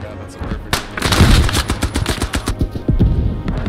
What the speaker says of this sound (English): Oh, a stick grenade!